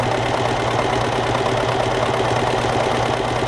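Steady, continuous mechanical whir of a sewing machine stitching fabric for a capitonê cushion, a loud, even motor hum with a fast regular stitching pulse throughout, no talk.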